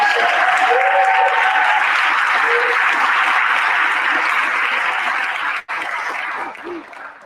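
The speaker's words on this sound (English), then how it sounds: "One more big round of applause for all 6 of our scholarships." Sustained loud applause from a large luncheon audience at a sports awards event, steady throughout before briefly cutting out and tapering near the end.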